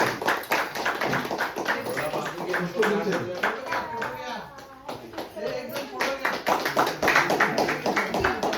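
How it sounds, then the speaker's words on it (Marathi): Loud, sustained clapping from a crowd at a retirement ceremony among friends, dense and continuous throughout with a brief dip midway, voices mixed in underneath. "टाळ्या वाजवा जोरात"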